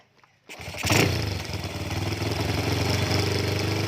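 A Honda Wave 100 dirt bike engine with a freshly tuned carburetor starts abruptly, revs sharply once, then settles into a loud, steady, slightly rough idle close by.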